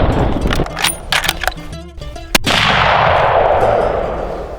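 One sharp, loud gunshot cracks during a wild hog hunt and rings out into a decaying boom, following a run of metallic clanks and knocks.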